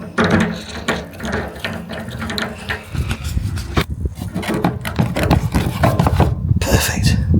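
A tool tightens a 3-port motorised valve body, producing close, repeated ratcheting clicks and scraping metal contacts in an irregular rhythm throughout.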